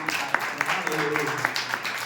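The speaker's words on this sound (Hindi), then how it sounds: "ताली बजा के हम प्रभु के नाम" A church congregation claps hands in a steady rhythmic beat during a worship song, sharp regular claps under singing voices.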